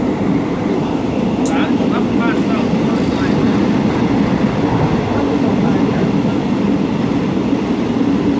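Express train number 83 rumbling at a station platform: a steady loud low roar of rolling stock fills the whole stretch, with a faint announcement-like voice in the background.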